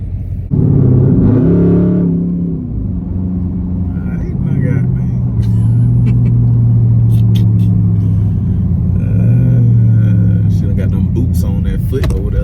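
Dodge Charger SRT8 driving, a deep engine rumble that rises with revving bursts then settles into a steady cruising drone, close and loud, with people talking over it.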